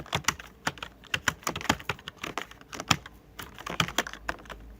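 Rapid typing on a computer keyboard during a government job typing test, a steady run of crisp key clicks in irregular bursts, close and clear with no talking.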